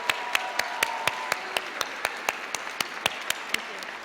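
Audience applause at the 2014 University of Maine at Farmington commencement ceremony, heard as sharp, evenly spaced claps standing out over a quieter background of hall ambience.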